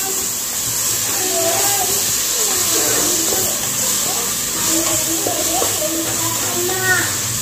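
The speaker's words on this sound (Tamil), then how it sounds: "இஞ்சி பூண்டு பேஸ்ட்டை போட்டு நல்லா வதக்கி விட்டுக்கலாம்" Ginger garlic paste sautés in a hot pan for vegetable biryani with a steady, loud hiss throughout, while faint voice-like tones drift underneath.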